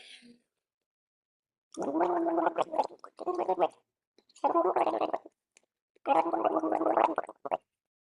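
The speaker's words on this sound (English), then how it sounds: "a vocal warm-up exercise I like to do is gargle water" Someone gargles water close up as a vocal warm-up exercise, in three or four rattling, bubbly bursts of about a second each, with brief pauses of quiet between them.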